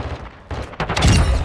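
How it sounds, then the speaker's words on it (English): Pistol gunshots in a Call of Duty video game, a couple of loud close reports in quick succession, the last ringing out loudest, with no talk. "I just wanted to show you guys the pistol"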